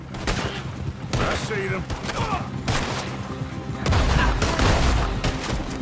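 Rapid gunfire in a Wild West outlaw action video game played on PS4, repeated loud bursts of shots mixed with game dialogue spoken over the fire.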